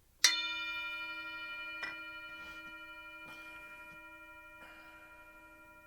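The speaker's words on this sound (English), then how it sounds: "I'm going to ring the bell." A single bell is struck once and rings out clearly, its tone slowly decaying while a few soft taps sound in the quiet.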